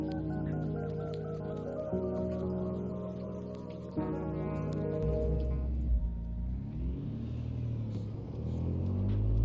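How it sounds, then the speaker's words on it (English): Interior idle of a BMW S55 engine from a car sound mod in a racing video game: a steady low harmonic drone that shifts pitch a few times, continuous and moderately loud with no talk. "I just recorded an interior idle sample from this empty competition"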